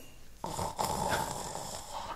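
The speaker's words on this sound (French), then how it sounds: "regardez bien, je vais faire la pression sur l'épaule, il va se mettre à ronfler" A man in a hypnosis session snores steadily after pressure is applied to his shoulder: rough, breathy rasping starts abruptly and continues close and clear, with no talking over it.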